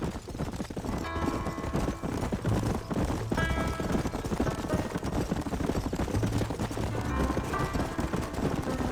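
Steady clip-clop of horse hooves galloping under a rider in Red Dead Redemption, rhythmic and close, running throughout with occasional faint voices and background game sound.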